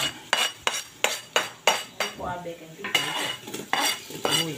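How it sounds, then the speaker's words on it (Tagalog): Garlic goes into a pan while sopas soup is being cooked, with a metal utensil clinking and scraping against the pan in a quick repeated rhythm and a light sizzle underneath, loud and close. "Yan po, nilalagay na po yung bawang."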